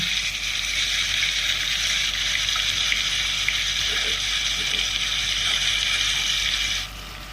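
Onion paste fries in hot oil with bay leaf, cumin and garam masala for Kashmiri chicken, giving a steady close hiss-like sizzle that holds level and cuts off near the end, with no talk.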